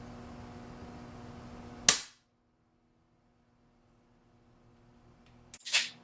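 Two sharp, loud shots from an EDgun Lelya .20 air rifle fired indoors, one near the start and another near the end, separated by several seconds of near silence, each with a brief ringing tail.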